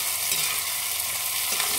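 Chopped tomatoes are stirred in a hot frying pan while cooking aloo ka bharta, making a brief, continuous hiss of sizzling with soft scraping, close and unbroken by voices.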